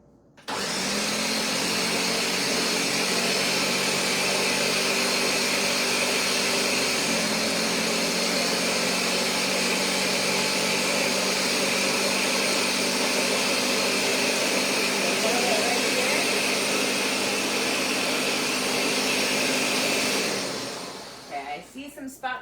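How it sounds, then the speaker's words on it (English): A blender runs steadily for about twenty seconds, whirring spinach, tuna and almond flour batter until smooth; the motor drone stays loud and even before winding down at the end. "And we're going to blend it until it is all the way smooth."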